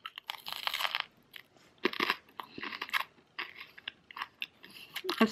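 Crunchy, slightly burnt-on-the-outside seasoned food is chewed close to the mic, a run of sharp, irregular crunching bites and pauses with no talking.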